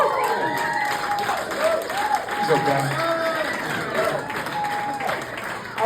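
Applause from a concert audience, a steady wash of clapping that runs the whole time with someone speaking over it.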